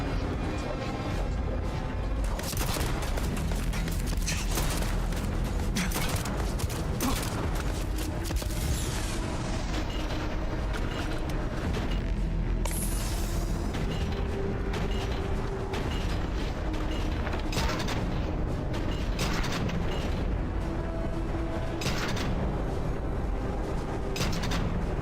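Gunfire in the Cyberpunk video game, with dense, continuous bursts of shots and impacts crowding a steady loud mix for the whole stretch, punctuated by heavier crashing hits.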